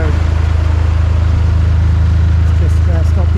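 A narrowboat's engine chugs at a steady, low idle with a regular throbbing pulse, close by, while a person speaks briefly over it.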